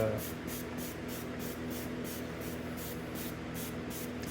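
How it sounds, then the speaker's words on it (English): Quiet hissing bursts of degreaser from a spray bottle onto an oiled air filter, a rapid series of short pumps repeating evenly, fairly close and soft. "spray it until you are satisfied with how much you got on there"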